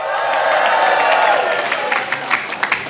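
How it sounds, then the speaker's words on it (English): A large crowd of guests at an Asian-Pacific American Heritage Month reception at the New York mayor's event claps loudly and steadily, the applause thinning into scattered claps toward the end. "Give her a big round of applause"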